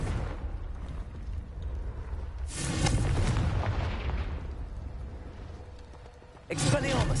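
Explosive Confringo spell blasts in Hogwarts Legacy, booming impacts with rumbling tails, one swelling mid-clip and another sharp blast near the end, set over steady game ambience.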